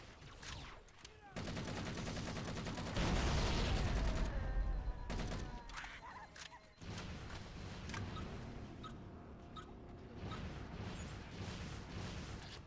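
A new weapon fires in a modded Halo game as sustained bursts of rapid gunfire with heavy booming blasts, broken by short gaps between volleys.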